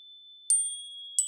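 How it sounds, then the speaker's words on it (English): A JW Standard energy chime, a precise metal chime from a set, is struck twice. Each strike gives a bright, high ring that sustains between hits, heard alone and close. "this is a JW Standard chime, kind of a set. I think they call these energy chimes."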